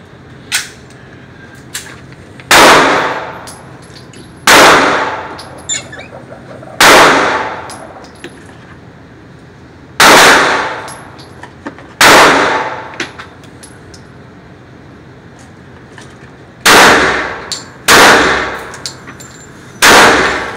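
A Glock 45 pistol fitted with a new sight fires about nine loud, sharp reports, each with a ringing decay, spaced irregularly a second or two apart with quiet gaps between.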